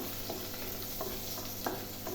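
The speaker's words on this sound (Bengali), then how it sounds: "রসুনটা একটু হালকা ভাজা হবে।" Garlic and black cumin seeds frying in hot oil, a close, continuous crackling sizzle with a few brief stirring scrapes, no voices.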